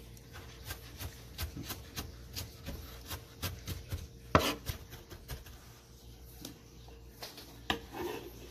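Ginger being cut into small pieces on a board for kimchi, with a series of close, quiet, steady knife chops, then a few louder knocks.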